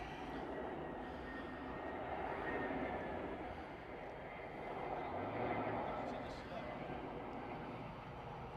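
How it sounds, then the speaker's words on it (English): An EasyJet airliner arriving at Manchester Airport, its engine roar a steady broad rumble that swells and fades over several seconds beneath outdoor wind and ambient noise. "Next arrival. Looks like another EasyJet."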